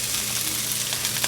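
Vegetable pot stickers fry in olive oil in a big pan, giving a dense, steady close sizzle with crackling throughout and no talk.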